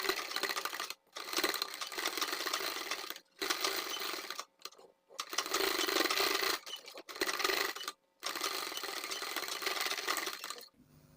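A sewing machine runs the final fitting seam of a sleeveless strap blouse in several steady, sustained bursts of stitching, each cut off by a short pause, with no talking.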